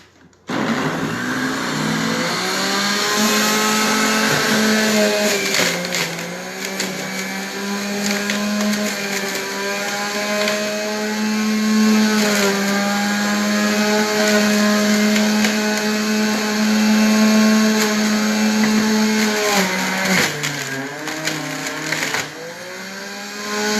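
A blender whirring loudly as it purees beets and other greens, a steady high-pitched motor drone that shifts pitch slightly as the blend thickens, then winds down near the end.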